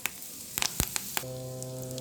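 Curry leaves dropped into hot oil give a quick flurry of sharp crackles and pops. They settle into a faint sizzle under a steady electrical hum.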